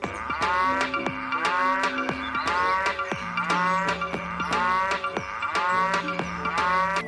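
Repeated mechanical cow moos from a toy in a steady looping rhythm, loud and close, each call followed by a tinny jingling tone.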